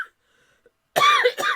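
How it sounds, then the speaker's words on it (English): After a near-silent pause, a person coughs twice, close and loud: one harsh cough followed quickly by a shorter second one. "Sorry about the coughs."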